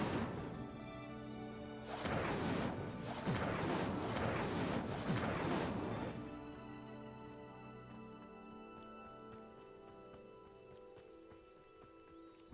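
Casting the Incendio fire spell in the video game Hogwarts Legacy sets off several seconds of roaring, crackling bursts and impacts, which fade into a lingering ringing tone.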